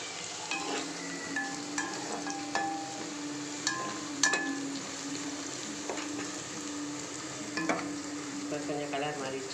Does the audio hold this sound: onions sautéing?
yes